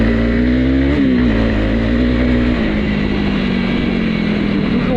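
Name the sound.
Honda CRF300L motorcycle engine revving off-road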